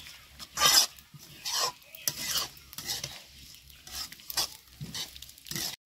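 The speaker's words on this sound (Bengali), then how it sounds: "ভালো করে আর একটু কষে নিব চালটা।" A utensil scrapes and stirs through raw rice in a hot pan for pulao, with repeated bursts of scraping and a soft sizzle between strokes.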